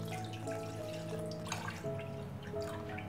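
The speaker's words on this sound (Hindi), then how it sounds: "उसमें हम डालेंगे 2 कप मिल्क।" Two cups of milk pour steadily into a pan in a home kitchen while a chocolate sauce is being made, a continuous close liquid splash lasting a few seconds with no talking.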